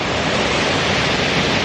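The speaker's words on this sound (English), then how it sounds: "and then the waterfall" A waterfall cascading at the top of a river hike, reached after crossing the river, gives a steady, full roar of rushing water, close and constant, with no voices over it.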